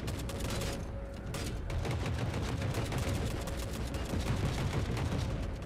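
Constant heavy gunfire in the video game The Forever Winter, dense bursts of automatic shots and booms layered into a loud, unbroken battle din with no talking.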